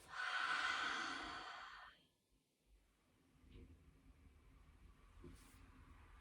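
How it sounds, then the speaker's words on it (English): A long, breathy exhale through the mouth during a restorative yoga flow, loud and close for about two seconds, then fading into quiet room tone. "Exhale through your mouth."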